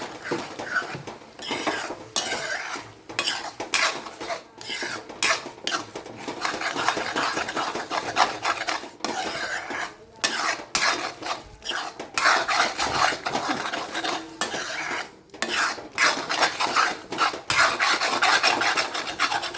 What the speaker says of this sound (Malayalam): എന്നിട്ട് നല്ലതുപോലെ ഇളക്കുക കട്ട പിടിക്കരുത് അടി പിടിക്കരുത്